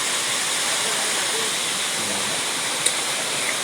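Water rushes at a low river dam with a broad, steady hiss and roar, loud and constant, with no pauses.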